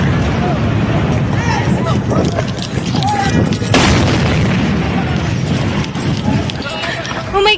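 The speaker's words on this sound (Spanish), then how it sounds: "la explosión impacta un edificio de paredes blancas y que la gente intenta escapar" Airstrike explosion hitting a white-walled building in Doha, a loud heavy boom with crashing rumble and chaotic noise, voices and commotion throughout.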